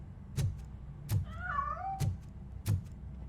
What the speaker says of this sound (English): I think it's coming from the piano. That cat must be hiding inside.